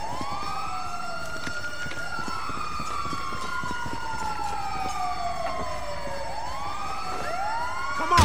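An ambulance siren in Grand Theft Auto V wails continuously in loud, repeating rising and falling sweeps, with no voices over it.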